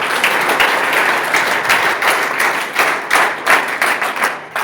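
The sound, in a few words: loud applause by participants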